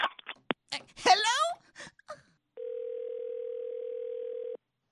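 A telephone dial tone sounds after a call is hung up, a steady, clear, unbroken hum for about two seconds that follows a brief burst of agitated voices.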